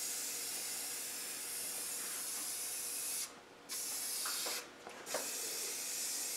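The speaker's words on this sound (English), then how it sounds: "we're going to paint this piece with a bit of black tremplate" A Rover V8 starter motor part gets sprayed with black paint, a faint steady hiss broken by two short pauses between light passes, close by with no talking.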